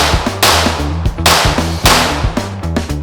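Rapid loud pistol shots with 124 grain brass ammunition through a Lone Wolf Arms Alphawolf slide, several sharp close cracks in quick succession, harsh and dominant.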